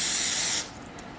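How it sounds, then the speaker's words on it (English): Cooking spray hisses loudly from an aerosol can onto the bottom of a Doctor Who drinking glass in a home kitchen, one steady burst that stops abruptly partway through, leaving quiet room tone. "We're going to spray the bottom of it with a cooking spray so that it doesn't stick."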